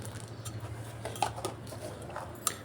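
A spoon stirs milk with salt and raisins in a pot for a semai dish, making a few sparse, light clinks against the metal over a low steady hum; no one speaks.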